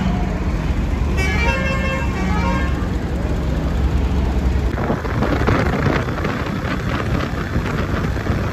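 Buses idle and move around a petrol pump on the road to Sehwan during the Shahbaz Qalandar mela, with a steady traffic roar, a horn tooting through the middle and louder engine noise building toward the end.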